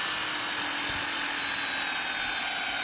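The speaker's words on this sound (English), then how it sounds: "we're going to want to go about 2 or 3 inches over and drill our new hole" A hand or power drill bores a tap hole into a maple tree trunk, giving a steady high whining drone that runs unbroken and close.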